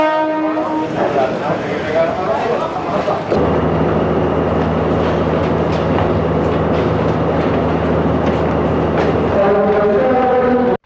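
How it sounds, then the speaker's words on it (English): Trains at Fort Railway Station in Colombo, Sri Lanka: a long horn blast opens, then a steady rumble of rolling carriages with droning engine tones, and another horn sounds at the end. "This is the situation at the Fort Railway Station this morning."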